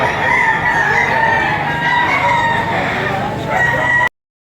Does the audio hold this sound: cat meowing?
no